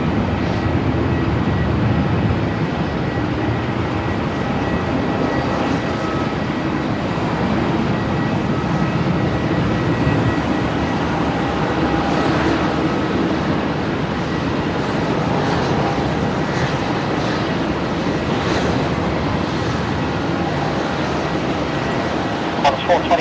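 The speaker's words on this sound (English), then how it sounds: "Now the China Southern just cleared for takeoff there, heading back to Guangzhou, the 787-9 Dreamliner." A China Southern Boeing 787-9 Dreamliner takes off at Melbourne Airport, a loud, continuous, broad jet roar with deep rumble that holds steady throughout.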